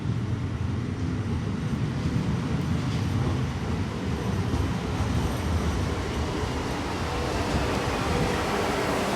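A Pomerania passenger train rolls into Kołobrzeg station, a steady broad rumble and rush of wheels on rail that stays loud and even throughout, with no voices over it.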